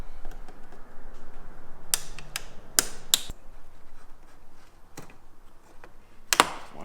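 Sharp clicks and pops as a plastic trim removal tool pries up tiny push rivets on a 2017 Ford Super Duty grille, a few scattered snaps over a low background hum with no talking.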